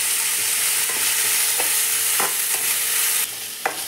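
Chicken masala with ginger garlic paste frying in a pan, a loud, continuous close sizzle with occasional scraping stirs of a spoon through the pan.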